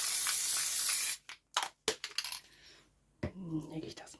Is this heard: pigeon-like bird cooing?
no